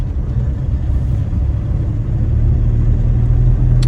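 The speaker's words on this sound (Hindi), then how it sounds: "लगाई थर्ड गियर, छोड़े क्लच धीरे" Car engine during a driving lesson while shifting into third gear, a loud, steady low rumble from inside the cabin with no clear rev change, continuing throughout.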